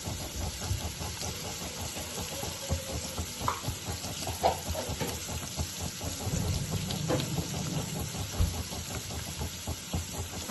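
Onion and freshly grated coconut roasting in a pan while a utensil stirs steadily, a continuous close sizzle with irregular scraping strokes throughout.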